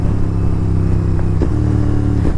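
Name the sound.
Royal Enfield Interceptor 650 motorcycle downshift exhaust boom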